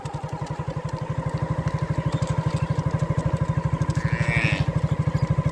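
Motorcycle engine running on a village road in Purbadhala, a close, loud, rapid steady thump throughout, with a brief faint higher cry near the end.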